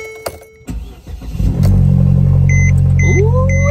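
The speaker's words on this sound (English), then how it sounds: "So we finna go warm the car up right now." A car engine cranks after a few clicks and beeps, catches, and settles into a loud, steady running roar as it warms up, with repeated electronic chimes sounding over it.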